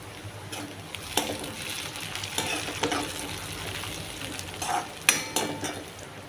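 Onions and coriander sauté in a pan for dhaba-style masala bhindi, a soft steady sizzle punctuated by scraping and clinking of a spatula stirring against the pan, close and moderately quiet with no talk.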